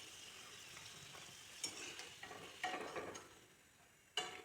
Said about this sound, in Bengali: আমি একটু কড়া ভাজবো, কড়া ভাজলে মুচমুচে হয়,